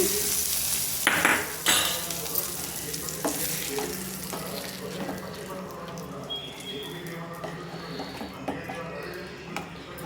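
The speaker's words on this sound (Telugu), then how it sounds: "కరివేపాకు కూడా వేసేసుకొని ఈ పోపుని ఆ చట్నీలో వేసేసుకోవడమేనండి" Hot oil tempering with curry leaves poured into a spicy chutney and stirred, giving a sizzle with clinking utensil scrapes and stirring under intermittent talk.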